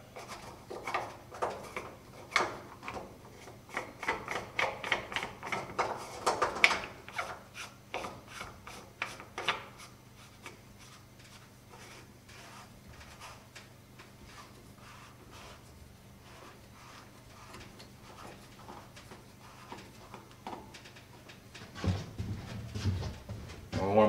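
A drain elbow being threaded onto a bathtub drain fitted with a washer: soft, close rubbing, scraping and ratcheting clicks run on and off throughout, busier early and quieter in the middle.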